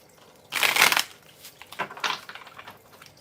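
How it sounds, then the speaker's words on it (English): Close-up shuffling of a tarot deck in a quiet room. One loud riffle comes first, followed by several softer, quick card shuffles, with no talking. "Let me shuffle real quick, though."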